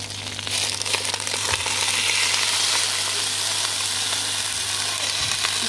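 Fish juice and water sizzle loudly in a hot pan with bananas, a steady dense frying hiss that swells after the liquid hits and holds without a break, with no voices.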